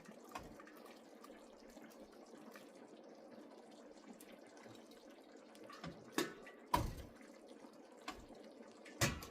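Cooked pasta is rinsed under running water, a quiet steady splashing rush punctuated by a few louder knocks and clatters of the pot or colander toward the end.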